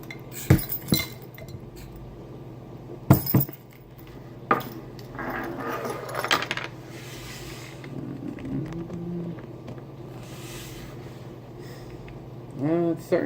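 Glass clinks and a sharp crack as a bottle of Fonta Flora beer is opened, followed by soft fizzing and pouring, with a few brief transients near the start and a louder clink near the end, alone without talk.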